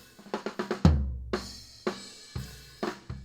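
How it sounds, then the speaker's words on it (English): A 16-inch floor tom struck repeatedly in a recording studio, deep booming hits with a fast attack and short decay, some strokes landing in quick runs and others spaced apart, loud and close with no voices. "And the floor tom 16 sounds like this."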